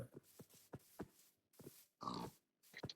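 A pig grunts and snorts in a series of short, rough bursts with brief pauses between them, fairly close and alone.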